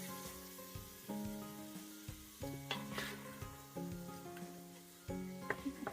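Meat sears on the sauté setting of an Instant Pot for Hungarian brassói, a soft sizzle with low humming tones and occasional clinks of a utensil, faint and without talk.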